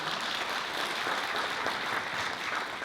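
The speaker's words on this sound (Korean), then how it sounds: "박수 한번 부탁드립니다" Clapping from an audience at a clan association's 50th-anniversary ceremony, a continuous, fairly soft wash of many hands heard from a distance, with no voices over it.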